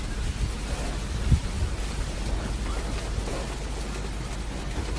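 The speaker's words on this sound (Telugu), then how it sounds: "చాలా పెద్ద పెద్ద గాలి వచ్చేస్తుంది, వర్షం కూడా వస్తుంది" A strong wind and rain storm outside, a dense steady roar of rain and gusting wind with a low rumbling thump early on, loud and continuous throughout.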